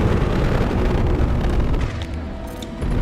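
A mech explodes in Mass Effect 2 Legendary Edition, giving a loud, broad rumbling boom that rolls on for a few seconds, dips briefly and then swells again.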